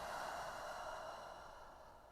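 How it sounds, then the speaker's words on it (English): A full, slow exhale during a yoga session, a soft breathy rush close to the mic that gradually fades out, with no talking. "Full breath in, full breath out."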